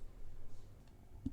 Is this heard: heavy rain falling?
no